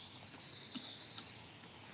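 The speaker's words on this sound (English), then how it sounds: "So let's spray it and get it to spread." A steady, close hiss of liquid paint being sprayed onto a canvas in a continuous burst, easing slightly toward the end.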